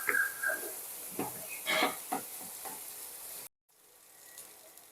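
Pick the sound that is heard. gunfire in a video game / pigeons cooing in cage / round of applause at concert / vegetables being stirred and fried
vegetables being stirred and fried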